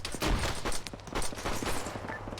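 Heavy gunfire in an Arma 3 combat mission, many rounds cracking in dense, overlapping bursts for a few seconds with scattered sharper shots, loud and close.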